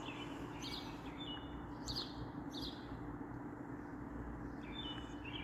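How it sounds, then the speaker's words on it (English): Pet birds chirp in short, bright bursts over a steady background rumble, a few scattered calls at moderate distance with no talking. "Listen to my boys. They chirping, boy."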